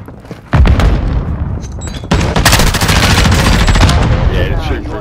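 Loud video game machine gun fire rattles in long sustained bursts through walls, with booming impacts and a dense, close, continuous barrage.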